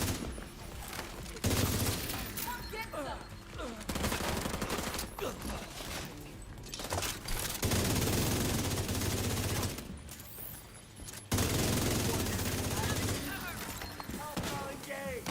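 Rifle fire in The Division 2 comes in repeated sustained bursts separated by short pauses, loud and close, with a player talking over the shooting.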